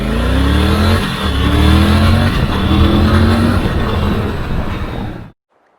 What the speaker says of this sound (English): That roaring sound when you open the throttle.